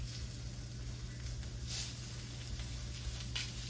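Food fries in a skillet with a steady low sizzle and crackle, plus a couple of brief sharp spits and hisses, and no voices.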